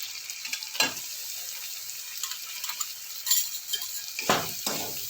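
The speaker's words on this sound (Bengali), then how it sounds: "ভালো করে নাড়াচাড়া করে নেব" Masala paste with chopped onion fries in oil while being stirred, a soft steady sizzle punctuated by several metallic spoon clinks and scraping strokes against the pot.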